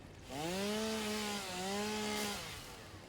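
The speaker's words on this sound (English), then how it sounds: "don't like to talk during the chainsaw because it's noisy" Chainsaw cutting wood in the game Satisfactory: a steady engine buzz with stacked harmonics rises in, holds for about two seconds with a slight dip midway, then cuts off, loud and alone.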